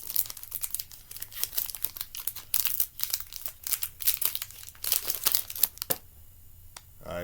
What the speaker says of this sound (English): All right, first pack. We are opening it up.